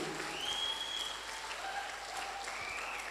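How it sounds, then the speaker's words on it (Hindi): Steady applause from an audience gathered for a talk honoring a company leader, a continuous soft wash of clapping heard at a moderate distance with faint tonal whistles or feedback drifting above it. "एक जोरदार ताली होनी चाहिए इस ग्रेट विजनरी पर्सनालिटी के लिए।"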